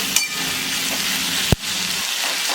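Tomato with onion and chilli fries in a pan for dried-fish chutney, a steady close sizzle with one sharp clink of utensil on metal partway through and the hiss thinning near the end.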